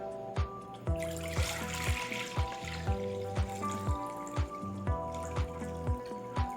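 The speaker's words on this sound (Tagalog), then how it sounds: "So, tatanggalin natin, guys, yung tubig niya." Water is drained off soaked rice in a home kitchen, a run of rhythmic plinking drips and trickles, close and clear, repeating steadily over the whole stretch with no talking.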